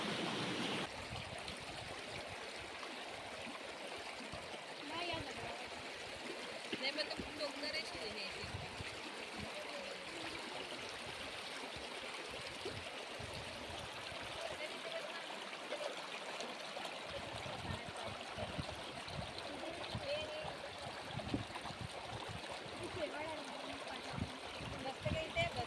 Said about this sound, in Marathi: अधूनमधून पक्ष्यांचे आवाज येत होते आणि तो पाण्याचा खळखळाट चालू